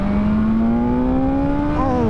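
A 2022 BMW S1000XR sport-touring motorcycle engine revs hard under acceleration, its tone climbing steadily over about two seconds at high RPM, loud and close with no talking.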